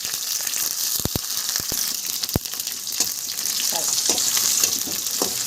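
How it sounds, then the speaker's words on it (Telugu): Chopped onions and green chillies frying in oil produce a bright, steady sizzle, broken early by several sharp metallic taps of a spoon against the pan and then softer stirring scrapes. No one talks. "బాగా వేగేదాకా ఉల్లిపాయలు, మిరపకాయలు బాగా వేపాలి."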